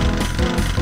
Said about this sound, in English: then we'll chainsaw these ones